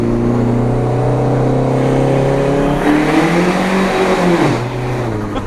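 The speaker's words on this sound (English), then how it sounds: "We lost traction in second gear, and the third gear shift was brutal." A straight-piped SRT-4 PT Cruiser GT roars loudly from close range, its engine climbing hard through the gears with a brief dip at a shift before revving again.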